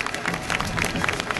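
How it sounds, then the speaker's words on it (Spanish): Spectators at a solemn religious procession for the Virgin of Guadalupe in Villa Hidalgo, Jalisco, in 2011 applaud. The brief burst of crowd clapping is mixed with murmuring voices. "Creo que merecen, pero un fuerte aplauso, por favor."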